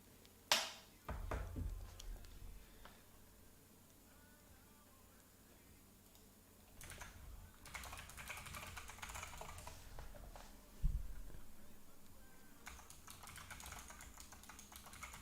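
Typing on a computer keyboard, faint clicking keystrokes in scattered bursts amid low room noise, with a couple of louder knocks.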